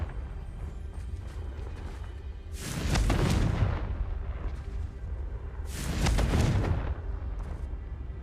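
Two loud, rumbling explosions from a fire spell in the Hogwarts Legacy video game, each one booming and then fading, a few seconds apart over a low ambient hum.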